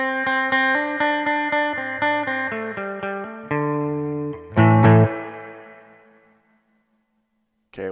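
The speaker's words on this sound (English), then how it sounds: "Let's go back to the spring reverb setting." A Hotone Verbera pedal on its default spring reverb setting: a run of evenly picked instrument notes and chords, each trailing a springy wash, ends on a louder chord whose reverb tail decays into silence before a short click.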